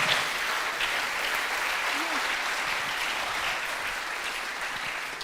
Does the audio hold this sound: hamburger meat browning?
no